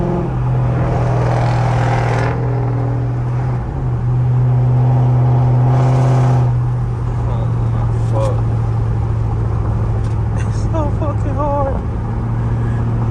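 A rebuilt Dodge Charger fitted with a 392 transmission drives along, its engine holding a steady low drone with a couple of swelling rises in pitch, heard from inside the car over continuous road noise.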